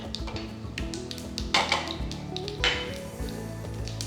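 Mustard seeds spluttering in hot oil in a pan while tempering for curd rice: scattered sharp pops and crackles over a quiet kitchen background, with a couple of louder clusters.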